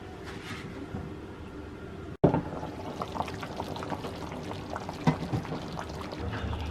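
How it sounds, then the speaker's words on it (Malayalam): Chicken curry gravy simmering in a pan, a steady close bubbling and sizzling bed with a sharp clatter just after two seconds and occasional louder pops and stirs. "ഇനി നമുക്ക് ഈ ചിക്കൻ്റെ ഗ്രേവി നന്നായിട്ടൊന്ന് തിളക്കട്ടെ."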